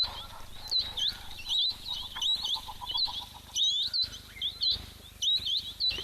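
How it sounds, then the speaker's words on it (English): A busy chorus of high, quick chirps from firefinches and small seed-eating birds at a waterhole, arriving in short bursts that overlap, close and lively, with soft lower calls underneath and no talking. "Definitely sounding quite lively here today at the waterhole with the little birds."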